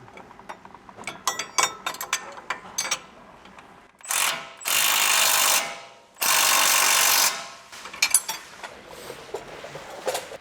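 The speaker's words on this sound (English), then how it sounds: "now I'm going to go ahead and tighten the bottom bolt on our strut" Lower strut bolt on a Toyota Tacoma being tightened during a leveling kit install, heard as bursts of ratchet clicks followed by two long, loud power-tool runs, then more ratcheting, with no talk.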